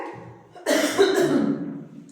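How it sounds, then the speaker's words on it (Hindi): A single harsh cough bursts out close by after a brief quiet murmur, rough and breathy, fading over about a second. "थोड़ा खांसी हो गया।"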